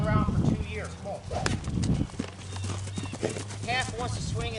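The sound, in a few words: horse hooves clip-clopping while being ridden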